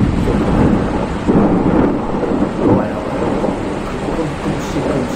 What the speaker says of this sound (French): C'est un orage.